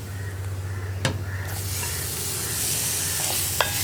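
Tomatoes stirred into sizzling sautéed onion masala with curry leaves in a pan, a constant frying hiss with two sharp spatula clacks against the pan and the sizzle swelling as the tomatoes go in; nobody speaks.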